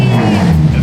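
A Nissan S13.5 with an SR20DET engine on a dyno pull gives a brief, loud, close engine drone with a strong low tone.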